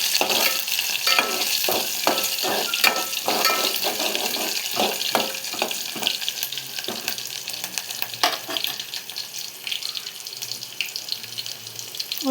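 Onions sizzling in a hot pan for upma, a steady bright hiss broken by repeated scraping stirs of a spoon, close and without voices.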